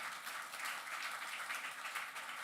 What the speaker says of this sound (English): And Bruno's Nightwing, and give him a big round of applause.